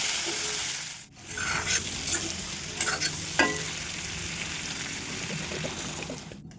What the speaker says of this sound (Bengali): ফুলকপিটা আগে ভেজে তার মতন লবণ হলুদ